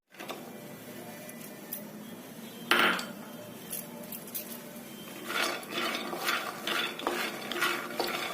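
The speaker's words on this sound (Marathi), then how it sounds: "मध्यम गॅसवरती सलग हलवून शेंगदाणे भाजून घ्यायचे" Peanuts roasting in a dry kadhai over medium gas are stirred with a spatula, with one sharp clatter early on, then a run of rhythmic rattling, scraping strokes.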